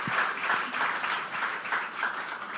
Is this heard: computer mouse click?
no